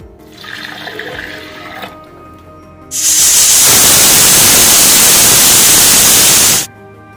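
Water pours into a pot for moong dal rice payasam, a loud, steady rushing splash lasting several seconds before stopping abruptly, preceded by quieter kitchen sounds.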